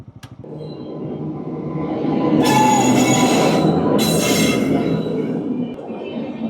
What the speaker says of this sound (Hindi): फाटक बंद है। पैसेंजर ट्रेन है क्या भाई? इतनी धीरे क्यों आ रही है?